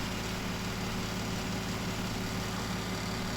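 A tractor engine in Farming Simulator 19 runs at a steady low idle-like drone, constant and even with no other sounds.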